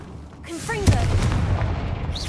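Confringo fire spell cast in Hogwarts Legacy, a sudden booming blast with crackling energy that trails off over ambient game sound, with a few short whooshing spell tones around it.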